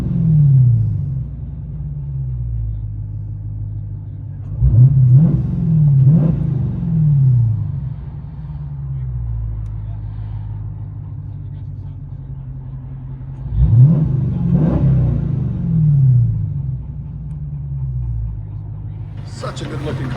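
A Dodge Challenger 392 Scat Pack with a 6.4L HEMI V8 and aftermarket exhaust idles with a deep rumble, then revs in two separate bursts of throttle, close by, with a voice briefly audible.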